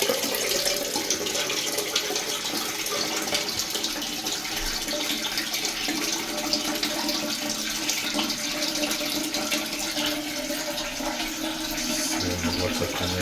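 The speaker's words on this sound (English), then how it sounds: "See the water coming up." An Ideal Standard toilet cistern steadily refilling, water rushing and hissing continuously at close range, with a change in tone near the end as the fill slows.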